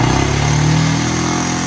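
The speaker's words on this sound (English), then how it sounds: "it's running really high idle" A used ATV engine with its carburetor idle screw turned all the way up runs at a high idle, a loud close steady drone with a faint pulsing rhythm.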